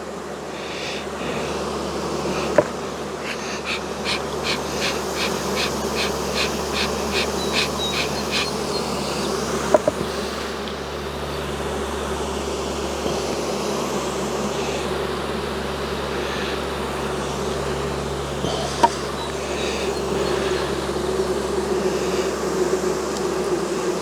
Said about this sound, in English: I need to get these bees under control.